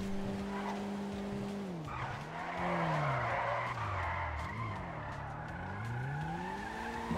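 Tires squeal loudly and continuously in GTA Online as a car accelerates, the engine pitch sweeping up and down under sustained skidding for several seconds.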